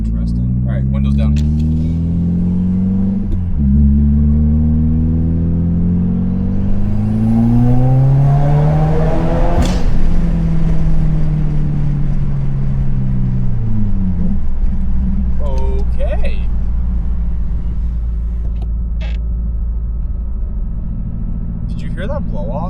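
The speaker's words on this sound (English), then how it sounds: "Hear that blow off?" A 2022 Subaru WRX, VB generation, on E8 fuel, pulls hard through the gears with a loud rising engine drone from the cabin with the windows down, and a sharp turbo blow-off hiss at the shift, while occupants talk.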